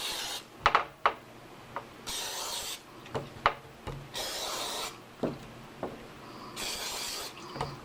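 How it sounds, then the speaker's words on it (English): Several bursts of hissing non-stick cooking spray onto a pan or casserole dish, each lasting about a second, separated by short pauses and light clicks and rubbing, close and fairly loud. "So I have some non-stick cooking spray that I'm spraying this with."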